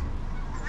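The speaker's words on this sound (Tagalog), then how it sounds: "Ayun, yung mga ibon." Geese honk outdoors in Finland, a short, dense burst of overlapping calls at moderate loudness with no one talking over it.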